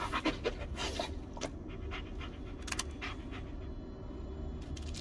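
A dog pants in the video game Blair Witch, a soft, rapid, rhythmic breathing that runs quietly and steadily throughout, close by with faint scattered clicks.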